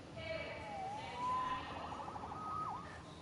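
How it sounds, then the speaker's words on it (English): A wailing police siren from the Spider-Man video game sweeps up and down at moderate level, with voices talking over and around it through most of the stretch. "Saved by the siren."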